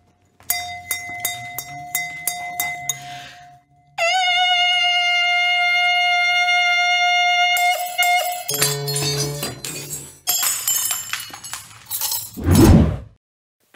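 A wine glass is driven at its resonance frequency. Loud sustained ringing tones and clinks build through several stages, then a sharp, noisy shattering burst breaks out near the end.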